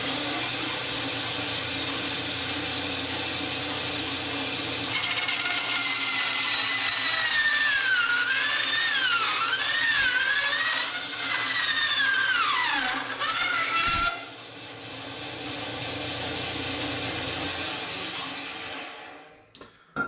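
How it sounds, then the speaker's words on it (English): A modified bandsaw cuts thin copper sheet with a steady mechanical whir, while a shrill metallic whine wavers and bends in pitch during the cut before the machine winds down near the end. "I have a feeling this copper is going to cut way better than the brass."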